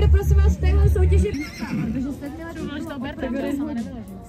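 A horse at an equestrian competition whinnies loudly at first, its call breaking into shaky descending neighs, while a crowd chatters and people talk in the background.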